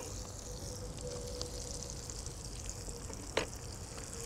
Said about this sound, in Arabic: هقلبه 10-15 ثانية، مجرد بس ما ريحة الثوم بتطلع هكمل بقية المكونات